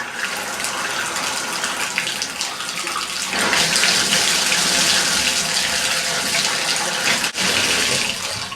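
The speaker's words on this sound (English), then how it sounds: "I'm going to go turn on the water, make sure we get no leak here" Water runs steadily from a bathtub faucet, a loud continuous rush that swells after a few seconds and keeps gushing alone, with one brief dip near the end.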